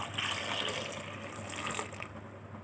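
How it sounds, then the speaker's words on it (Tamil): Water runs steadily into a pot for boiling potatoes, a continuous close gushing pour with no voices over it. "தண்ணி விட்டாச்சு."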